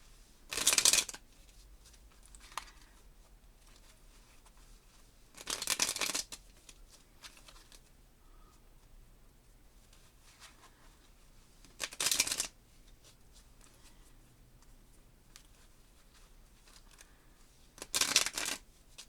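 A deck of playing cards being shuffled in four separate quick riffles spaced several seconds apart, each a short crisp burst close by, with near silence between them.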